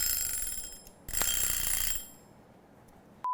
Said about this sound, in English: So the 15-minute timer went off.